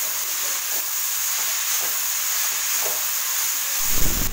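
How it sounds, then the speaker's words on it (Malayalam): Papaya thoran, a Kerala stir-fry, being stirred in a pan over the heat, giving a steady hiss and sizzle with soft scraping strokes at intervals and a louder clatter at the end. "ഇനി നമുക്ക് നന്നായിട്ട് എല്ലാം കൂടി നന്നായിട്ട് മിക്സ് ചെയ്ത് കൊടുക്കാം."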